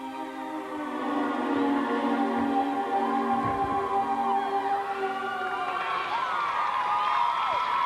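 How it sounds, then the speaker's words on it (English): An arena crowd at the 2000 Big Ten women's gymnastics championships cheers and whoops steadily after a routine, a loud continuous roar of many voices with shrill high shouts throughout. "And the crowd responds, as do her teammates."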